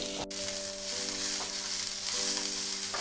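Twelve cashews and onions fry together in hot oil in a pan for shahi paneer, a continuous bright sizzle with a few soft stirring clinks and no voices.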